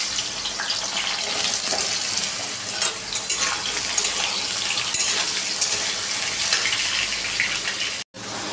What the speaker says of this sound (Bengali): কুমড়ো আর এই যে আলু এখন কড়াইয়ে যাবে,